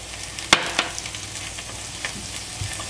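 Butter sizzles in a pan while a Kaiserschmarrn shredded pancake cooks, a gentle steady crackle broken by a sharp clatter and a few light stirring knocks.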